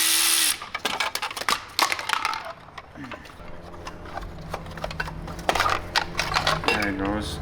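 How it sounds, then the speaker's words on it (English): Metal clinks, knocks and scraping as a heat shield is worked loose and pulled off a BMW N54 engine during a teardown, irregular close handling noises with a brief whirring tool burst. "Oh, I got to take this heat shield off."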